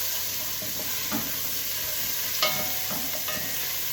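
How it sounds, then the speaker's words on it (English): A mustard powder mixture stirred in a pan gives a soft continuous sizzle and hiss, with a few faint scrapes and taps of the utensil against the pan. "And then just give those all the swirls around."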